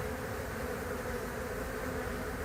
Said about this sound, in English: That is the march of the bees.